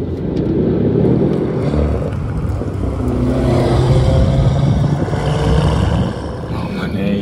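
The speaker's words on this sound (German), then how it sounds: "wenn wir gleich Vollgas geben" A 1300 PS Mercedes C63 W205 tuned by GAD-Motors with 4MATIC+ accelerates at full throttle, its loud engine roaring close and sustained, climbing and swelling throughout with the deep exhaust note filling the clip.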